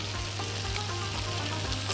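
Onion and minced meat sizzle steadily in a hot pan while being sautéed, a continuous close frying crackle with a low hum underneath and no talking.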